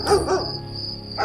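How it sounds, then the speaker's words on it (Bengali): A dog barks twice in quick succession, then once more after a pause, over a steady high insect drone. "কোনো কুকুর গেলে হঠাৎ ঘেউ ঘেউ করে"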